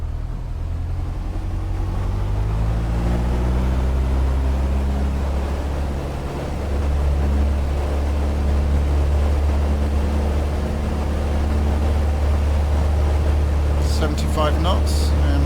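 A steady aircraft engine drones through the takeoff roll in the Prepar3D flight simulator, constant and loud, with a person talking over it.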